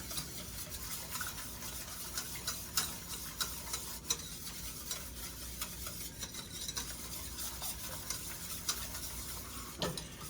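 A spoon scrapes and stirs through a sauce after sherry cooking wine is added, producing faint, quiet, irregular clicks and taps over a soft continuous background hiss.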